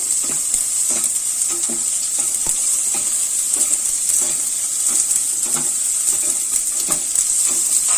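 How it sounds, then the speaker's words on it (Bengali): Tomato puree for paneer butter masala sizzles and bubbles in a hot pan on a gas flame, a steady close hiss with light stirring scrapes throughout and no talking. "এবারে আমি পিউরেটা ঢেলে দেবো এতে।"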